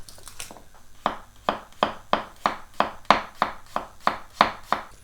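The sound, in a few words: knife slicing a garlic clove thinly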